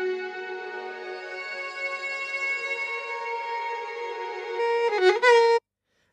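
Audio Modeling SWAM physically modeled solo string instrument playing one long sustained bowed note with a bigger reverb, steady and close, then a quick pitch slide and swell before stopping abruptly into silence.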